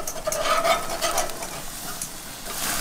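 Burger patties hit a hot griddle and hiss steadily, close and fairly loud, a continuous sizzle with a faint scraping stir early on and no talk over it.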